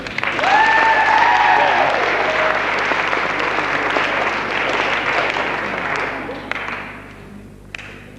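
An audience at a youth night gospel event applauds as speakers are welcomed to the platform: loud, steady clapping from a sizable crowd, with a brief whistle early on, fading out near the end.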